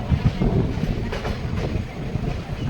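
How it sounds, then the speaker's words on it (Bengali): Tatanagar-Asansol Express rolling over the Kharkai river bridge, a steady low rumble of wheels and carriages with faint rhythmic clatter and wind across the microphone, continuous and close. "টাটানগর থেকে ছাড়ার পরেই ট্রেন খড়কায় নদীর ব্রিজ ক্রস করছে"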